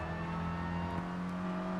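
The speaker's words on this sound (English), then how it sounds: "Hear that exhaust roar" Steady engine and exhaust drone of a Mini race car in Gran Turismo Sport, a continuous sustained roar held at constant revs, loud and close, with no voices over it.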